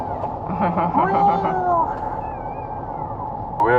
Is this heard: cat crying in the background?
yes